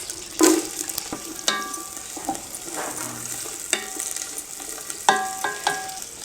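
Onions tossed into hot oil with bay leaves and cinnamon for a biryani base, giving a steady sizzle with sharp clinks and scrapes of stirring scattered throughout, close and moderately loud, no talking.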